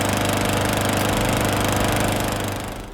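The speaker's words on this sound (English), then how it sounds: "Better start up the lawnmower" A neighbour's lawnmower runs loudly and close by, its engine giving a steady, pulsing drone that holds throughout before tapering off at the end.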